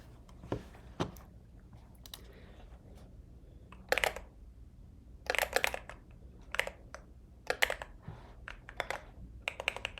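Computer keyboard typing during a coding session, with bursts of quick close key clicks separated by short pauses, light and fairly quiet against a low background hum.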